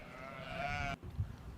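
A single sheep bleats once, a wavering, nasal cry close by, which cuts off abruptly and leaves faint low background noise.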